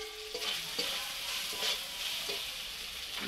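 Fried prawns are stirred through red chilli powder and spices in a hot pan, giving a close, continuous sizzle broken by scraping stirring strokes.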